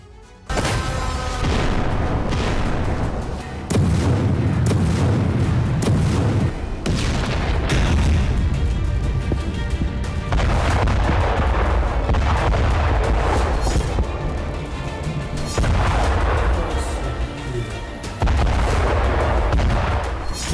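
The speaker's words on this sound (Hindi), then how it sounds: "क्या यह धमाका यूक्रेन युद्ध का एक्सटेंशन है?" Artillery fire and explosions in war footage from Kyiv, a loud run of heavy booms and blasts repeating every few seconds at close range, with no voices over them.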